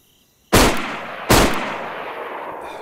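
Two loud, sharp revolver shots in an online player-versus-player shooter, about three quarters of a second apart, each followed by a ringing decay over a quiet background.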